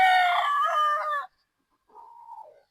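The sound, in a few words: Sweater gamefowl rooster crowing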